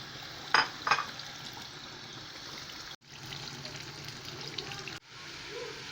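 Chopped tomatoes sizzle in a hot pan for shakshuka, giving a steady, moderate frying hiss broken by a couple of sharper bursts near the start, with no talking.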